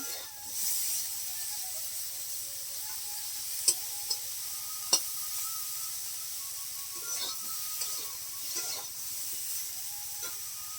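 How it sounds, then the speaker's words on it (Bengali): Cauliflower and potato frying in oil in a pan: a soft, continuous sizzle and hiss with a few sharp clinks and stirring scrapes, fairly quiet and without speech. "দেখো ফুলকপি আলু ভাজা হয়ে গেছে"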